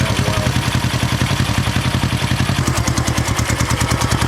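A 1970 Honda SL350 motorcycle engine idles close up with a steady, rapid, even putter and mechanical clatter, the pulses sharpening slightly toward the end; the carburetor may be running lean.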